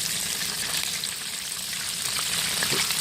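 Catfish deep frying in peanut oil in an outdoor fryer, a steady close hiss and crackle of bubbling oil with no talk.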